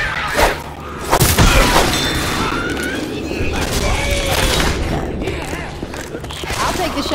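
Gunfire and mechanical clatter in the zombie shooter Left 4 Dead 2, with a sharp burst of shots early on and busy game sounds throughout, mixed under voices talking.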